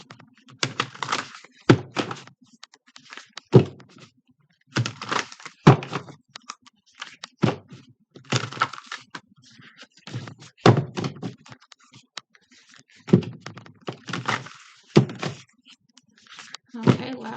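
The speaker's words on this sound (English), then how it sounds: "I'm going to shuffle a couple of times" A deck of tarot or oracle cards being shuffled by hand in repeated bursts of riffling, papery slaps and thumps, close and fairly loud, with short pauses between rounds.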